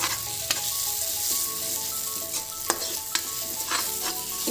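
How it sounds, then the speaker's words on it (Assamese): Spices with red chili powder stirred and fried in a pan, a steady close sizzle with repeated scraping strokes of the spoon against the pan, no talking. "মছলাখিনি মই ভালদৰে এনেকৈ লাৰি দিম তলাত লাগিব দিয়া নাই"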